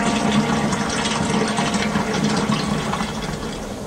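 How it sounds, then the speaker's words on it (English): Water gushing through a hose into a steam locomotive's tank at a station platform, a steady, dense rushing wash that holds level throughout with no voices. "the crew were having a tough time fixing the hose pipe along the platform to Thomas's water column, trying to give him a drink"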